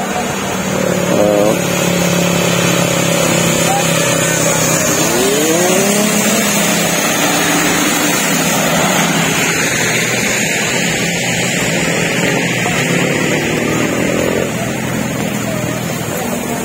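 Engines of passing motorcycles rise and fall through steady loud traffic noise, with rising whines as they accelerate by close.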